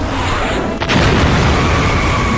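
An exploding stick thrown in a Mad Max film scene detonates with a loud booming blast, a brief dropout followed by a sustained roaring rumble that fills the rest of the moment.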